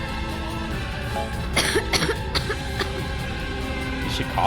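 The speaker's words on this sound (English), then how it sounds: "Is she coughing and dying?" A few short, raspy coughs from a character in Final Fantasy Type-0 sound over a continuous game soundtrack, with a faint voice underneath.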